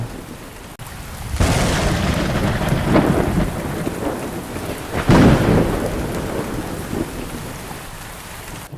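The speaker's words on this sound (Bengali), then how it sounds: "আজ 3 দিন ধরে বৃষ্টি হচ্ছে, আকাশটা যেন ফুটো হয়ে এসেছে, এরকম ভাবে বৃষ্টি হচ্ছে।" Heavy rain pours steadily while thunder cracks and rolls nearby, two strong peals breaking through the downpour.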